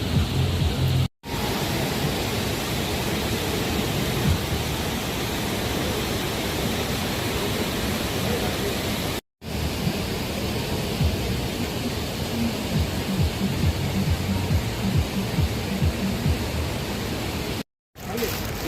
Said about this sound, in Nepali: पानी पर्न सुरु भयो।